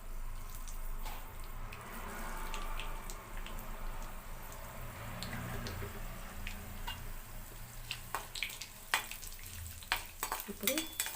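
Mustard seeds and cumin sizzling in hot oil in a pan, a steady low fry broken by sharp crackles and pops that grow busier toward the end, close to the microphone.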